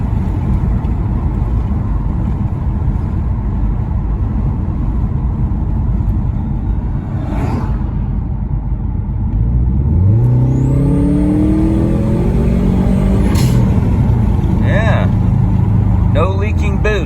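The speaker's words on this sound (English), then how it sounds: "The blow-off valve relieves." Turbocharged Subaru Outback XT engine running steadily, then revving with a rising whine, with a brief hiss like the adjustable blow-off valve venting, recorded from inside the car.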